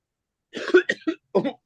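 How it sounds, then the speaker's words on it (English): Several short, close coughs after deeply inhaling essential oils, a cluster of two or three followed by one more after a brief pause, in an otherwise quiet room. "Be prepared to cough a little bit here"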